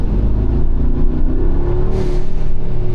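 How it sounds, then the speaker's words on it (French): A Brabus G63 Rocket, a six-wheeled 900 hp Mercedes, rumbles with a deep throaty engine note that swells into a rev near the end, close by and loud. "900 chevaux sur un G63 qui a 6 roues, bah malgré tout ça a la santé, tu vois. Et ça fait un bruit plutôt sympa."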